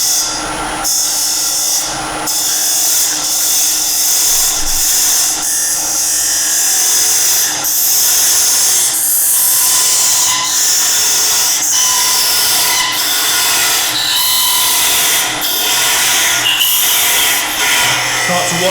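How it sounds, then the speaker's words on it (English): A wooden vase being parted off on a lathe, a loud continuous whirring and rasping of the spinning wood against the cutting tool, with a steady hum beneath it and repeated clicks and scrapes throughout. "We're going to part that off."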